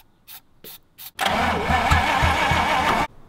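A nailhead engine in a 1932 Ford hot rod, out of use for years, gives a few short cranking bursts, then catches and fires into a loud, steady, rough running roar for about two seconds before cutting off abruptly.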